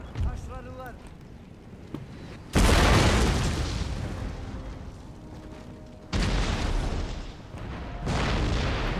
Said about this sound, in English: keep firing canister on the same spot